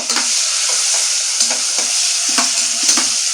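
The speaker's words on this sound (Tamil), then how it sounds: "இப்போ நம்ம எடுத்து வச்சுருக்க தக்காளி வெங்காயம் எல்லாத்தையுமே ஒன்றா சேர்த்துலாம்" Tomato and onion sautéing together in a pan, a bright continuous frying hiss punctuated by regular spatula scrapes and stirring strokes, close and fairly loud.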